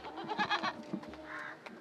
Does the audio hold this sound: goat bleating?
yes